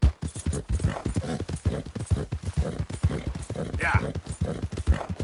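Horse hooves clip-clop in a steady galloping rhythm in the video game Red Dead Redemption 2, up close, with a voice talking over the hoofbeats.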